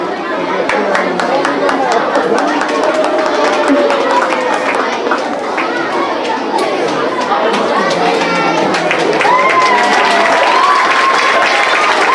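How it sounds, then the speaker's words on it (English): Applause and cheering from an audience of children and parents at an elementary school Oscars event, sustained and lively, with chatter and kids' voices mixed in throughout. "let's give him another round of applause"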